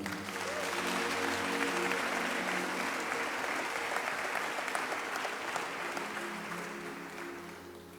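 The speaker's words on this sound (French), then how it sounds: "Acclamons le Seigneur" A church congregation breaks into sustained applause, a dense wash of many hands clapping that stays full and steady before tapering off toward the end.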